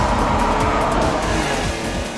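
Honda NSX engine revving hard as VTEC engages, a loud sustained roar heard from inside the car with a rising tone and dense engine harmonics.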